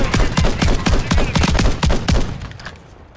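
Rapid gunfire bursts in Warzone, loud and close, with sharp repeated shots in quick rhythm for about two seconds before fading to quieter echoes.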